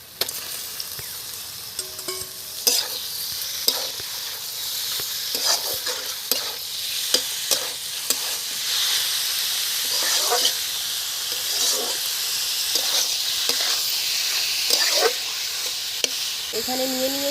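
Minced chicken hits a pan of onions fried about two-thirds brown and is stirred, giving a steady close sizzle with repeated scraping, clattering spatula strokes throughout.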